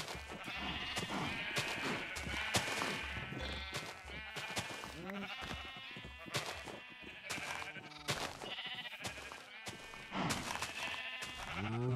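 Sheep in Minecraft bleat again and again in quick succession, loud and close, the calls overlapping with short gaps and a steady game background underneath.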